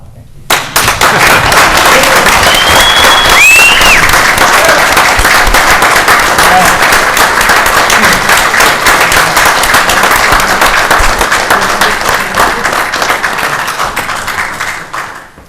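An audience at a town board meeting bursts into loud, sustained applause after a police chief's badge ceremony, crisp individual claps throughout, fading near the end.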